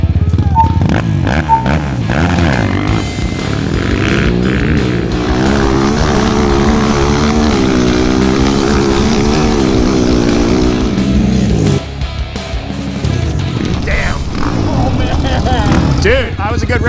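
Two modded ATVs, a Honda 400EX and a Kawasaki KFX450R, drag racing: loud, sustained engine roar with rising and shifting revs, a break near the end and more revving, with people talking over it.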